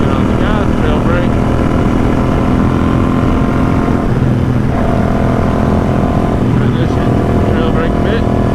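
A custom Royal Enfield Interceptor 650 accelerates out of corners on a ride, its engine a loud, continuous drone with rising and falling revs, heavily mixed with wind rush and a rider talking.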